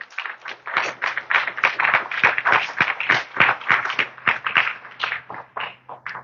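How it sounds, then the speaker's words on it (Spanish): A church congregation gives applause to the Lord, a fairly small group clapping in quick bursts of separate, distinct claps that go on steadily for several seconds at moderate volume. "Denle un aplauso al Señor"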